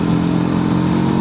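An FKM ARY 500 big bike motorcycle engine hums steadily while riding uphill in a low gear, a continuous close drone with no speech.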